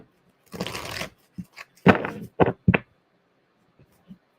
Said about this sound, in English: Pull some oracle cards. Let's shuffle one good time.